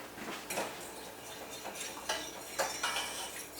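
A spoon stirring sticky, unwashed rice in a pot makes faint, irregular scraping and knocking strokes that come every half second or so against a quiet background.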